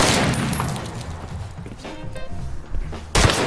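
Gunfire from a VR shooter video game: a cluster of sharp shots opens the clip, followed by scattered thuds, and a loud burst closes it.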